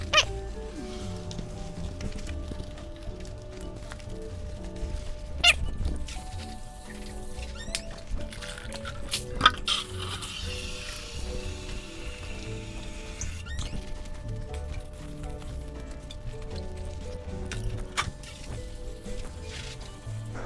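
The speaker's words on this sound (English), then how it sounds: "I'm just letting the sponge kind of sit on the frame as I just scrape it around." Sponge being scraped lightly over a motorcycle frame during a wash, soft wet rubbing and squeaking strokes with scattered drips and small taps, close and fairly quiet.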